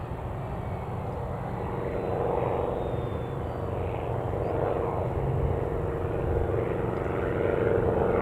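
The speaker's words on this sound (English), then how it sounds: "Oh, it's just a little prop." A small propeller aircraft at Newcastle Airport drones steadily with a low engine hum and propeller buzz, moderately distant and continuous throughout.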